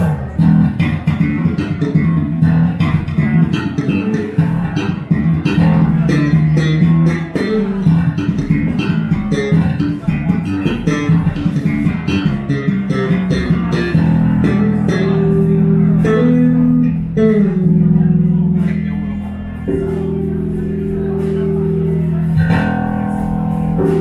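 A black Squier electric bass guitar plays a steady, busy line of low plucked notes, loud and continuous, slowing into held notes toward the end.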